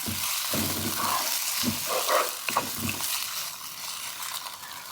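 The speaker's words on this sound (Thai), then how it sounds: "เดี๋ยวเราก็ผัดไปจนตับสุกเลยนะคะ" Liver stir-fries with garlic in a hot pan, a close sizzling hiss broken by clattering spatula scrapes and tosses against the metal, no speech.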